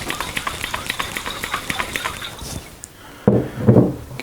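Someone shakes a reconditioned Aerators Type B soda siphon filled with water and charged gas, producing a rapid rhythmic sloshing and knocking, then a pause followed by heavier, louder sloshing bursts up close.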